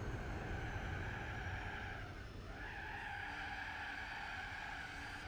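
Continuous tire skidding and squealing from a car in Gran Turismo 4 as the rear snaps into oversteer, loud and steady for several seconds over a droning engine.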